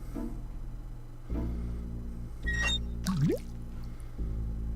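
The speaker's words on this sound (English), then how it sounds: "Let's fill the bucket with water." Water pours into a bucket in the Day of the Tentacle Remastered adventure game, a short splashing fill with a rising, gurgling tone over a steady low game-music hum, heard alone.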